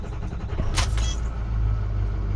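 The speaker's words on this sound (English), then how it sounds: "go ahead and attempt to start the truck" A diesel truck engine cranks and rumbles into life, a close low idle churning steadily after a short burst of starter and clatter noise, without any speech.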